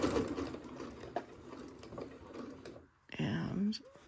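A home sewing machine stitching across a Shoo Fly quilt block, a fast close mechanical whir and patter that stops briefly and restarts, with someone talking over it.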